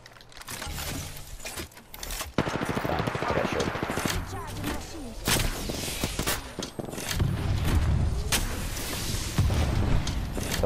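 Apex Legends firefight with rapid automatic gunfire and single shots, some from a rooftop, loud bursts and rattling volleys mixed with game effects over about ten seconds.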